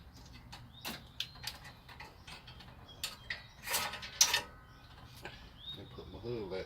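Plastic retaining clips on a 2009 Mitsubishi Lancer GTS are pressed back into place during an A/C condenser reinstall, giving a string of quiet, sharp clicks and small rattles with a brief louder snap near the middle.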